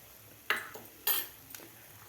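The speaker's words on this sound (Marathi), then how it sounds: "व्यवस्थित हलवून घ्यायचं आपल्याला।" A spoon stirring a dry curry of green moong with peanut powder in a pan: three or four separate metallic scrapes and clinks, close but quiet, over a faint background.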